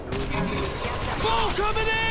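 Rapid bursts of gunfire from the zombie shooter game World War Z crackle and rattle in the mix alongside game sounds, with a player talking excitedly over the action.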